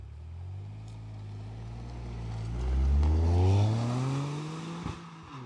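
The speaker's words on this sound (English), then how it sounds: "Let's see how the GR Corolla performs." A Toyota GR Corolla drives past and accelerates, its engine note rising in pitch through the revs and swelling louder as it comes near, then easing off.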